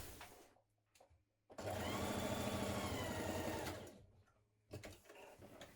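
A sewing machine stitches shoulder seams on a sleeveless shirt top in one steady run of about two and a half seconds, with quieter handling noises before and after.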